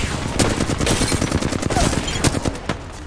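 Rapid automatic fire from a Flatline rifle in Apex Legends, a loud, dense stream of close shots with a steady rhythm throughout, some voices faintly mixed in.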